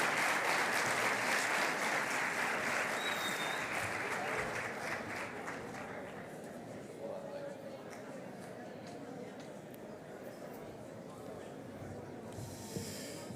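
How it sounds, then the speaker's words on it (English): An audience at a plenary session on classroom teaching applauds in a sustained round that gradually fades toward its end, with murmured chatter underneath. "another round of applause for Mary Scholl, please."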